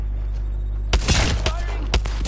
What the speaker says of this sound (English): Throw an arc star.